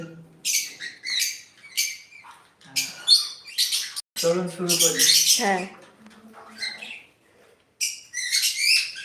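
Birds chirp in quick, bright bursts around someone who speaks briefly while eating chhanar payesh, the calls coming and going across the moment at moderate loudness.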